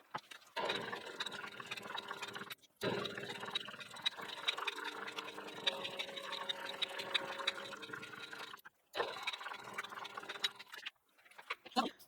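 A sewing machine stitches a raw-edge fabric leaf appliqué on a fall quilt block, running in long steady bursts of rapid needle chatter with brief pauses between runs.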